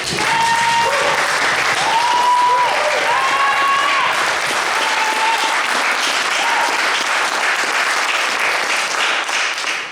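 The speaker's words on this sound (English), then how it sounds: "So, big round of applause for David." Loud, steady applause from a large crowd, sustained throughout with a few cheers and whoops rising above the clapping.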